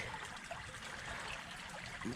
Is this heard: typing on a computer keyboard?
no